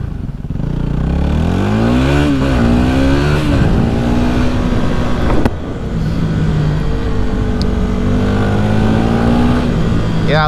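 Yamaha WR250R dual sport motorcycle, a 250 single-cylinder thumper, revving hard and climbing through gears close to the rider, its engine note rising and dropping steadily with no pause.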